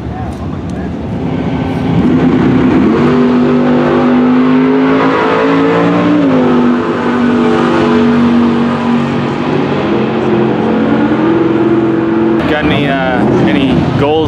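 A turbocharged LS V8 swapped into a Volvo sleeper with a 78mm turbo roars loud and close, revving and holding a steady high drone, then blips again near the end.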